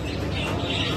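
Royal pigeons cooing at a Baghdad animal and bird market, a brief soft coo buried in dense, constant market noise.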